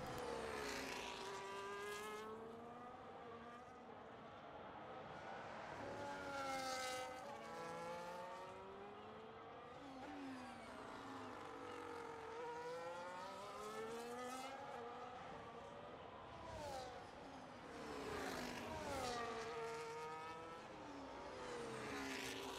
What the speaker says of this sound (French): on va suivre Mad Max et sa McLaren.